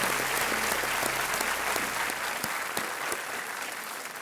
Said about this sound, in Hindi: यहाँ पर जितनी जनता है तालियों के साथ आपका स्वागत कर रही है